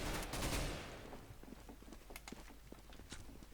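Counter-Strike: Global Offensive gameplay with a loud burst of gunfire at the start, followed by scattered, quieter rapid pops and footsteps-like taps continuing in the background.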